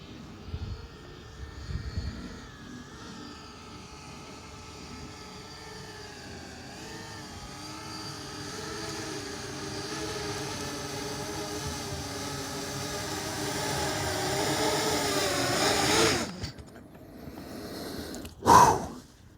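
An iFlight Centurion X8 octocopter FPV cinelifter drone flies with a steady, loud whine of many motors and props that rises and shifts in pitch, then cuts off, followed by a brief sharp burst near the end.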